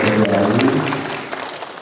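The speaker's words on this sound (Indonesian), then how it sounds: "tepuk tangan sekali lagi buat peserta hari" Applause from an audience for the participants at a financial report meeting in Bandung, a steady wash of clapping that starts full and fades gradually toward the end, with no talking over it.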